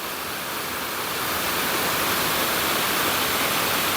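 A waterfall pours at the foot of its cascade, a dense, steady broadband roar heard up close and loud, with no voices over it.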